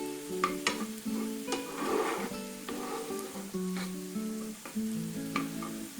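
Stuffed zucchini filling sizzles softly in a skillet over medium heat, with repeated scraping stirs of a utensil against the pan and a steady low frying hiss underneath.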